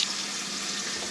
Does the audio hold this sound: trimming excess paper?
no